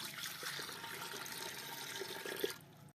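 Water poured steadily from a vessel into a cooking pot (handi) on a village stove for sarson ka saag, a continuous near splashing pour that thins and stops at the end.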